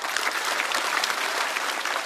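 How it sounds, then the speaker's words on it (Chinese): An audience at a stand-up comedy show claps steadily, a dense and even burst of applause with no voices. "再次掌声送给哈曹"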